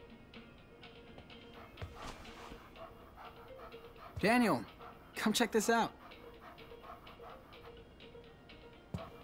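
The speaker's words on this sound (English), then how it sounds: "It's a puppy." A stray puppy in Life is Strange 2 lets out two bursts of high yelping barks and whimpers near the middle, alone after a short spoken line at a roadside gas station.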